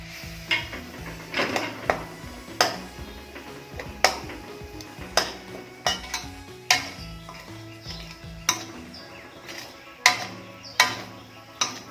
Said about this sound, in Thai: อันนี้หัวกะทิเดือดแล้วนะครับ เราก็จะเติมเครื่องแกงลงไปผัดนะครับ